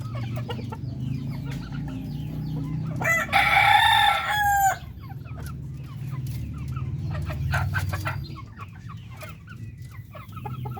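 Darag native chickens at a breeder farm in Zaragoza, Nueva Ecija: a loud nearby rooster crow rises out of ongoing clucking and scattered flock calls, with other fowl sounds around it.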